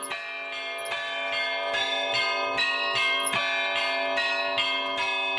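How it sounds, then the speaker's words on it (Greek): Several tuned monastery church bells ring loudly together in a lively rhythmic peal, their tones overlapping and sustaining. "Οι καμπάνες, ρυθμισμένες τονικά, παίζουν τη δική τους μουσική"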